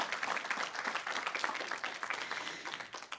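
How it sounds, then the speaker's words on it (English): Audience applause for a speaker at a municipal forum on blight, a steady dense clapping from a full room, sustained and fairly loud throughout with no talk over it. "can we give Karen a big round of applause?"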